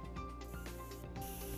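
An Ultra Ever Dry aerosol spray, with its power unit attached to a glass jar, hisses steadily in short test bursts, faint and close, with a mechanical hum underneath and no speech.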